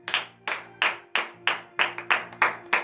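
A church congregation at a Saturday morning prayer in Benin claps in a steady, even rhythm, about ten sharp, loud claps in unison over a low background hum.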